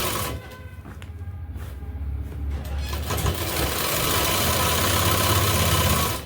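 A sewing machine runs steadily, stitching a seam on a kurti for a suit, its motor a continuous mechanical hum and vibration that rises slightly and holds without pause.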